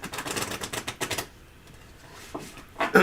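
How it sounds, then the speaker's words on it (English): A large tarot card deck is riffled and shuffled in a rapid papery flutter, followed by a short pause and then another burst of card noise, close up with no talk. "The bigger the deck, the harder to shuffle."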